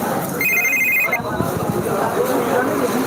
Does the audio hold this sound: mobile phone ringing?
yes